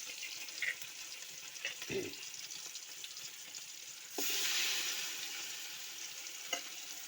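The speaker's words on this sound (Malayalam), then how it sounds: "മീൻ മൊരിഞ്ഞ് വരുന്നുണ്ട്." Fish frying in hot oil in a pan on the stove, giving a steady, close sizzle that swells louder partway through, with a few stirring clinks.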